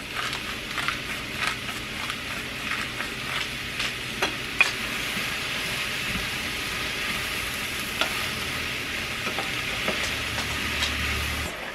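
Sliced Baby Bella and button mushrooms with onions sizzle steadily in butter in a pot, a constant close frying hiss broken by occasional stirring clicks, with no talking.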